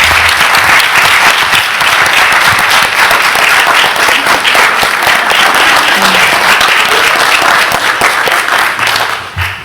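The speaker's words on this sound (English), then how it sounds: "Could we please give them a hand clap?" Loud, sustained applause from a crowd at a school board meeting, honouring site coordinators, many hands clapping densely before fading slightly at the end.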